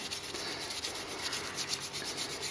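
A scourer scrubs oiled steel milling clamps, working into small grooves with a soft, steady rasping rub that repeats in quick strokes, close and fairly quiet, with no voices.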